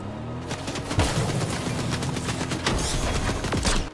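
Rapid bursts of gunfire in Fortnite, with repeated sharp cracks packed across the whole stretch at a steady loud level and a few heavier booming shots standing out.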